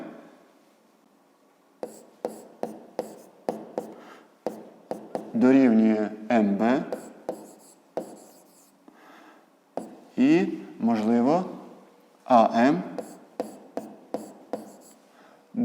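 Pen scratching out a fifth-grade maths exercise on paper in short strokes and steady rubs, close by, with a voice speaking in between and over the writing.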